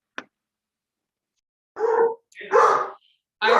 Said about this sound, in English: Our hound dog is singing her song again, so it's a little hard to hear.